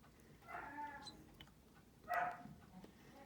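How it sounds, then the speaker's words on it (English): A young puppy acting as a guard dog gives two short, distant barks indoors a second or so apart, faint over a quiet room hum. "Sorry about the dog barking in the background"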